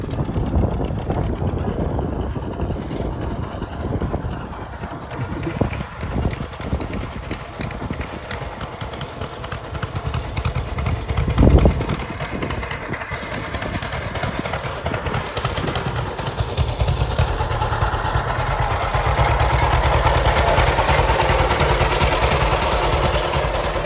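A John Deere H tractor engine runs steadily while driving around a yard with passengers aboard, a continuous loud low rumble with gusts of wind noise and a brief bump partway through.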